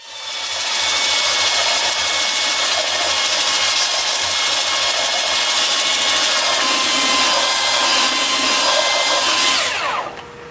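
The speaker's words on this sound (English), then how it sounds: "well, time for sanding" A loud, continuous hissing rasp of abrasive rubbing against spinning maple on a wood lathe, steady for several seconds before cutting off abruptly near the end.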